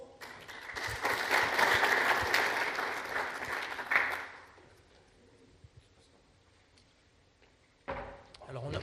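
An audience applauds at a French-language round-table conference as a speaker is introduced: a loud, dense burst of clapping for about four seconds that quickly fades into a quiet room, followed by a brief voice and shuffling.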